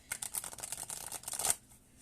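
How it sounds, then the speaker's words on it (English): Deck of playing cards that sticks together being shuffled by hand, a dense run of quick riffling flicks and slaps for about a second and a half, close and fairly quiet, then near silence. "So I have to shuffle it old school,"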